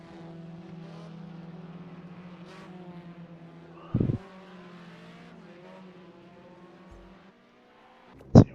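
Race cars rolling out of pit lane in a racing video game, a steady engine drone running throughout with a couple of sharp, loud transient bursts near the middle and at the end.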